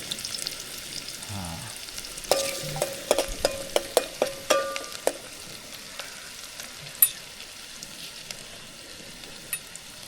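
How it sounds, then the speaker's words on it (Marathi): Chopped onion fries in a pan on a gas stove at an outdoor night campsite, crackling and sizzling steadily while a spoon or spatula clinks sharply against the pan in quick bursts, close by with no talking. "पहिला गेला कांदा कसा वाजतोय चरचर चरचर गॅस कमी कर"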